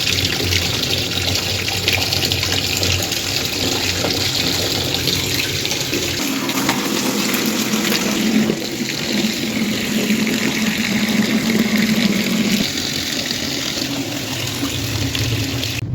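A washing machine churns clothes through a steady, continuous wash of water and motor noise, with a low hum shifting partway through. There is no talk.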